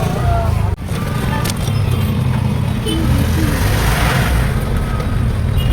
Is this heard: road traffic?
yes